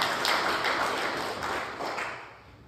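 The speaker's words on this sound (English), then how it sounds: "Can we clap our hands one more time in here?" Church congregation clapping hands together in a dense, steady burst of applause that fills the room, gradually thinning and fading toward the end.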